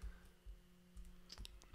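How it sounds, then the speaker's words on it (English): Clicking of computer buttons or keys, a handful of faint, sharp taps spaced irregularly over a low hum. "Sorry, I'm clicking the wrong buttons here."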